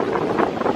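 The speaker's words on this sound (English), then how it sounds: "Sorry if it's really windy." Strong wind blowing on a microphone on a hilly road: a loud, continuous low rumble and buffeting roar with no breaks.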